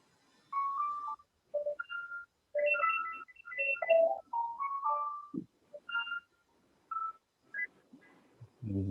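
A mobile phone ringtone plays during a Qi Gong class, a melodic series of electronic tones in short phrases, clear and moderately loud with no talking over it.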